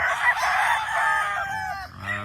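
A brass back gamefowl rooster crows loud and close in one full drawn-out cock-a-doodle-doo, ending with a brief cluck.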